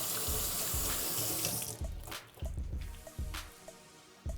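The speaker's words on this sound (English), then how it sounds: "I am a germ and dirt fanatic, so I'm always washing my hands" A kitchen sink tap runs loudly while hands are washed, the steady gush breaking off into splashes, drips and wet squishing sounds with no talk.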